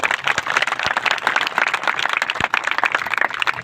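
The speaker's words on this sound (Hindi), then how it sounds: "इन सभी भाइयों के लिए एक बार जोरदार ताली" A crowd at a meeting on a football ground claps loudly for honoured workers, dense and continuous with scattered sharper claps standing out, sustained evenly throughout.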